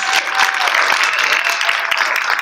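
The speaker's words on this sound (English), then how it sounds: "you can give them a round of applause" Audience applause for the mayoral candidates at a Cincinnati mayoral debate, a short, dense wash of many hands clapping close and loud throughout.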